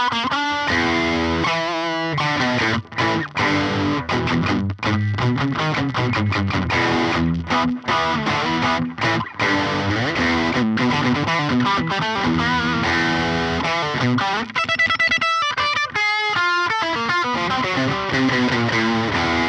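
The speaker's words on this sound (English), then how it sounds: "Let me show you this guitar through a Boss Overdrive distortion." A vintage 1980s Burny Super Grade electric guitar played through a Boss Overdrive distortion pedal: loud, continuous driven chords and riffs with sustained gritty tone and rhythmic strumming throughout, with no talking.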